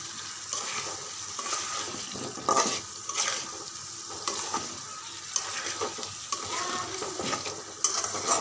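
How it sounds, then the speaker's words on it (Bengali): Potatoes frying in oil and being stirred for aloo dum, a steady close sizzle broken by irregular scraping strokes of a spoon against the pan, with no voices. "তেলটা ছেড়ে দিয়েছে এখন আমি আলুটা দিয়ে ভালো করে কষাবো"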